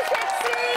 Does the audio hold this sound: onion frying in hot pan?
no